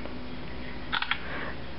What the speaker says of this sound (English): I'll stay with the classic shutter sound.